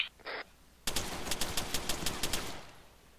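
Gunfire in the military simulation game ArmA 3, a brief radio-like blip and then a steady automatic burst of about ten evenly spaced, fairly loud shots that fades out, with no talk.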